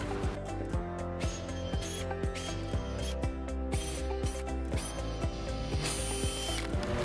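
Power drill or impact driver running in short whirring bursts as 2.5 inch screws go into a wooden farmhouse bench base, with ratcheting clicks and steady mechanical noise throughout, close and fairly loud.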